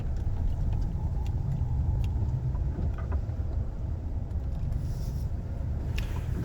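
A car on new snow tires drives through heavy, falling snow, giving a steady close engine and road rumble with muffled tire noise and a few faint knocks throughout.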